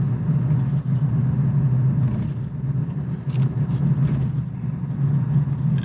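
A 2023 Lexus LC500 carving through gentle S-curves, its engine a steady low rumble with road noise throughout, close and continuous with slight swells as it moves through the bends.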